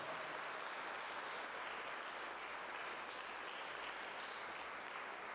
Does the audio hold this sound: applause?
yes